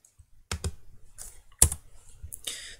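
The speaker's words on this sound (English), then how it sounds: "so I'm going to click on it, hit delete" Computer keyboard keys pressed while deleting a constraint in CAD software: a few close, crisp clicks spaced irregularly, with one sharper tap, in a quiet room.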